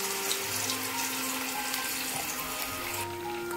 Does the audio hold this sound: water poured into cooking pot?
yes